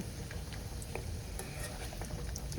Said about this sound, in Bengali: কড়ার মধ্যে রিফাইন্ড অয়েল দিয়ে এইভাবে ডুমো ডুমো করে কাটা আলু দিয়ে দিলাম।